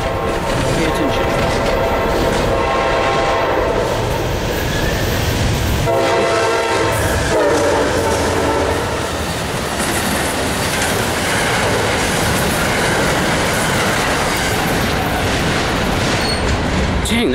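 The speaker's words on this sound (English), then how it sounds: "here comes the Amtrak." The Amtrak Silver Star number 91 passenger train races past near Petersburg, Virginia, with a loud, continuous roar, rattling wheels and blasts of its horn close by throughout.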